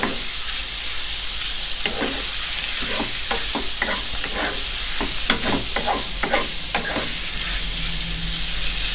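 Pork belly stir-fries with mala spices in a pan, a loud steady sizzle with a run of quick scraping stirs of the spatula in the middle, close up and with no voices.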